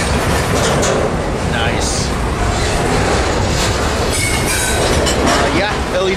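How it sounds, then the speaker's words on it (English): Metrolink train led by an F-125 locomotive passing close by, a loud steady roar of rolling wheels and rail noise with faint clicking, while a person briefly speaks. "here comes an F-125 leading a Metrolink"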